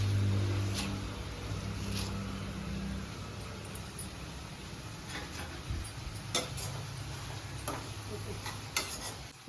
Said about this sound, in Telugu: ఇలా వేసుకుని తిప్పుకుంటూ ఉండాలి.